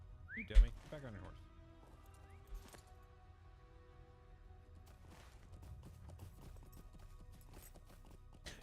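Horse hooves clip-clop in an early 2000s video game, a light rhythmic patter running under scattered game effects and chatter, after one sharp louder hit near the start.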